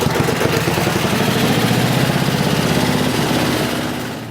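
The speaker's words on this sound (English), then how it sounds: "Giving it one quick test pull so you guys can hear this thing run." A 1973 John Deere 56 lawn mower engine runs steadily after a pull start, a loud, close, continuous putter with a fast even firing rhythm that fades slightly at the end.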